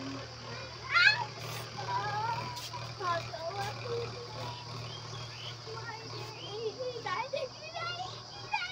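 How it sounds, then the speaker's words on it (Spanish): A kitten meows in short, thin, rising cries, including a clear cry near the start and more later, over a steady background hum with some voices in the room. "La gatita."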